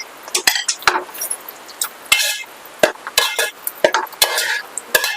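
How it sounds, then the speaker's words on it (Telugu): Onions are stirred and fried in a pan for gongura boti curry, with close, loud scraping strokes, clinks of a spoon against the pan and a soft sizzle underneath, in irregular bursts and without talk. "ఆనియన్స్ ఇవి మగ్గినాయి కదా వేసేద్దాం"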